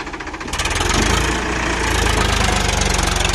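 A Powertrac Euro 47 tractor pulls a fully loaded trailer stuck in soil, its diesel engine loudly chugging and knocking in a fast, steady pulse that revs up and strains, heard up close.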